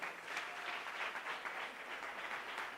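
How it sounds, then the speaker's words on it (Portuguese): A church congregation applauds a member standing up: steady, dense clapping from many hands fills the room, fairly soft and even throughout without a clear peak or fade. "Vamos aplaudir o seu do Denis."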